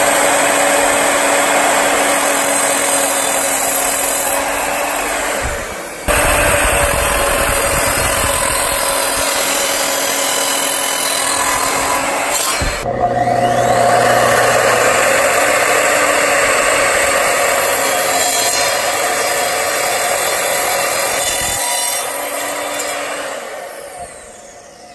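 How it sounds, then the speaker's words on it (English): Evolution R255 miter saw cutting cedar with its vacuum running, a loud, steady high whine and grinding rasp lasting through the clip, with brief dips as the blade passes through the wood, close and with no talk. "it seems to do pretty good with a cut, just regular old cedar"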